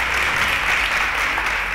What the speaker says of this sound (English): A round of applause for Dan Kazim